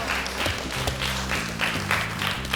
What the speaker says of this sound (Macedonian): го доби аплаузот од публиката